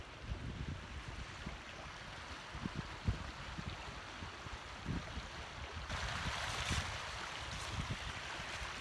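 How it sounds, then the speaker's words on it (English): A winter creek runs over mossy rocks in a wooded campground, a soft continuous babble of water with faint gurgles and occasional small splashes, steady throughout. "I got this beautiful creek running I'll be able to listen to all night while I sleep."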